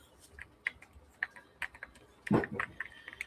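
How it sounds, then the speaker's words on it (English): Fast typing on a computer keyboard, quick irregular key clicks heard fairly close, with a short louder cluster near the end, no voices. "He's so fast at typing though."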